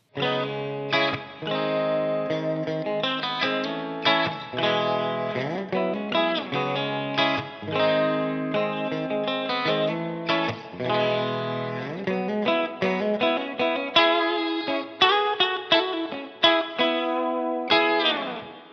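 An electric guitar plays clean chords and picked notes with a slight chorus shimmer, strummed in a loose, continuous rhythm with brief pauses.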